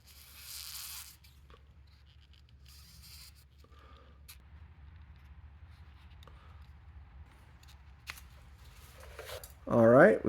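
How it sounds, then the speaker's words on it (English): A kitchen knife saws through a rubber bump stop from a Porsche 997 911, giving soft scraping strokes close by over steady low hum, with a louder burst near the end. "the razor was not cutting it, so we're actually switching to a kitchen knife. So let's go ahead and cut this."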